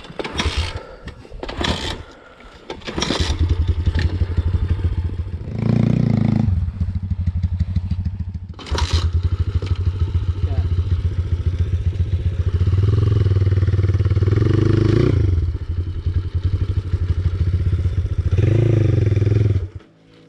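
Thumpstar dirt bike engine running in first gear, a loud, close, rough mechanical drone that holds for long stretches, breaks off briefly and rises again, with some clattering bursts near the start.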